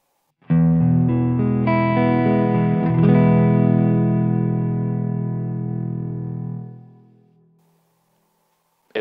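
Electric guitar played through a Flattley The Ace pedal with the bass boosted: a loud, distorted, sustained chord that rings for about six seconds, then fades out alone with no talk.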